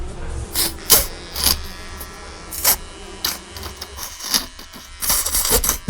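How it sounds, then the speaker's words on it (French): A steady electric buzz of hair clippers runs throughout, rising and falling with bursts of sharper hissy noise, close and fairly loud. "Attendez, c'est quoi ce bruit? C'est la tondeuse qui fait ça?"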